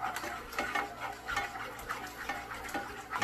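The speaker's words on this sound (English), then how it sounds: "Just keep an eye on it, just keep stirring it" Food stirred in a pan while cooking breakfast, a soft repeated scraping and tapping rhythm over a low background hum, faint and close, with no talk.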